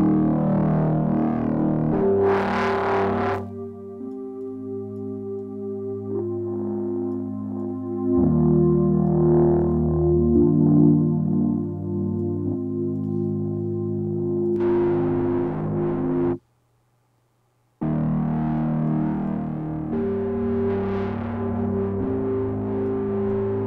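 Distorted, effected instrument tones from the IK Multimedia MixBox plugin, played alone at high level as sustained shifting chords with a gritty, saturated edge, cutting to silence briefly before resuming.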